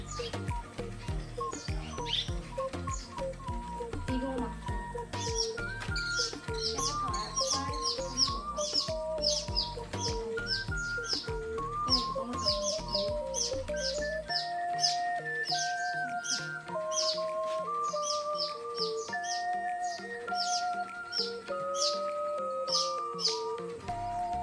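Swallows chirp from a mud nest built inside a rural Chinese home, with a steady stream of high, rapid tweets and squeaks, near and fairly soft, alongside some low rustling.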